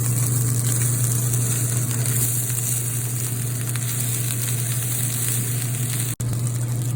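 Beef frying in a hot pan for fried rice, a loud continuous sizzle that crackles steadily close by with a low hum underneath, broken by one sharp instant near the end.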